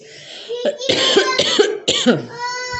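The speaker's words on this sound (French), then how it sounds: "je tousse toujours un peu, j'ai la gorge irritée" A series of harsh coughs from an irritated throat, several short bursts close together, with a voice chattering faintly in the background.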